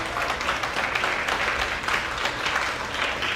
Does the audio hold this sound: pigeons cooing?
no